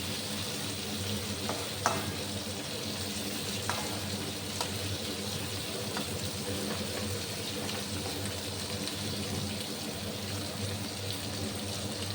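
Continuous sizzling of dried red chillies and bay leaves frying in hot oil, a steady crackling hiss up close with a few faint clicks of a spoon stirring.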